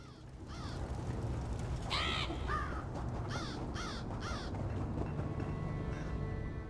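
Several harsh crow caws from a game bird character in Elder Scrolls Online's Clockwork City, repeated in short bursts over a steady ambient drone, fairly close and loud.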